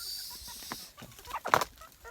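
Backyard chickens at a rural hut cluck in short, scattered calls, one louder burst near the end, with a steady high hiss of insects or wind behind them.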